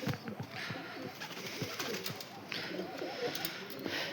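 Pigeons coo softly and repeatedly against a busy background of rustling and faint clatter, with no voices.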